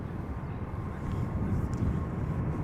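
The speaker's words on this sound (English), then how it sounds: "It is a 777-200 ER going to EWR to Newark." A 26-year-old Boeing 777-200ER bound for Newark departs Amsterdam Schiphol, its jet engines a steady, loud, broadband roar that swells slightly as the airliner powers away.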